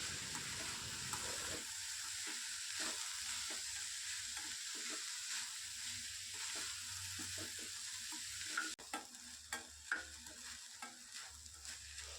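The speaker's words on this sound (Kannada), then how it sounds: "5 ನಿಮಿಷ ಲೋ ಫ್ಲೇಮಲ್ಲಿ ಚೆನ್ನಾಗಿ ಎಣ್ಣೆಯಲ್ಲಿ ಫ್ರೈ ಮಾಡ್ಕೊತೀನಿ" Carrots fry gently in oil over a low flame with rock salt, a soft steady sizzle broken by regular spoon scrapes and a few louder knocks near the end, quiet and without talking.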